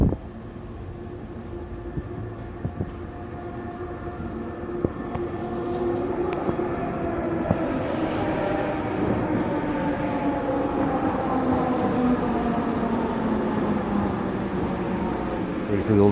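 Trains pass, with a continuous low rumble building and holding while drawn-out tonal whines rise and fall over it. A voice speaks briefly.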